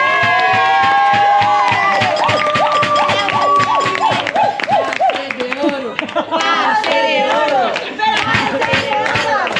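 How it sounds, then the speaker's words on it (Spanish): A loud crowd at a Supercopa football event claps hard in rhythmic bursts, with cheering, shouts and sung or whistled calls rising over the clapping the whole time. "Es que esto es un aplauso fuerte."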